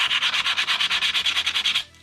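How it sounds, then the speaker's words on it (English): Sandpaper of 220 grit rubbed back and forth inside a wooden guitar body: about seventeen quick, even rasping strokes in steady rhythm, close and loud, then stopping. "Now I'm working on sanding the inside"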